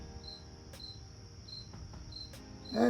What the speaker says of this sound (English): That cricket is just making some noise.